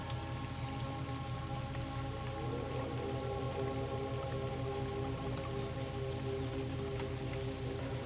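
Rain falls steadily on leaves, wood and water, a soft continuous patter with occasional distinct drips, even and unbroken throughout.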